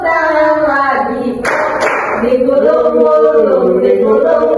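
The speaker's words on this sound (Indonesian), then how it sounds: "Bertepuk tangan." Children clap their hands in a classroom microteaching session, a brief burst of claps breaking into a sung, chanted game led by a teacher's voice, with singing continuing around it.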